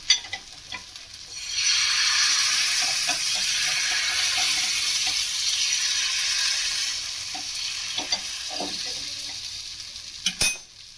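Spring roll batter cooks on a hot griddle with a continuous soft sizzle and frying hiss, and a few light taps and scrapes of a utensil against the pan.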